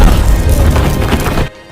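A bomb-like object blasts in a film scene, a loud broadband crash and boom that rumbles for about a second and a half, then cuts off abruptly into near silence.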